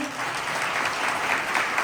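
An audience at a temple festival applauds the makers of a golden throne at its unveiling, producing a dense, steady burst of clapping throughout the short stretch.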